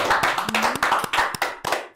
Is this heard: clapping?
yes